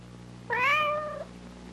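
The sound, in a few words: cat meowing in a flea collar TV commercial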